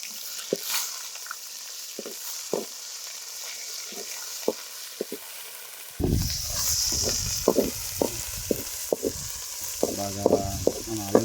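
Ginger garlic paste and halved green chillies frying in a pan for a village-style chicken curry, a steady close sizzle with scraping stirs that grows louder and busier partway through.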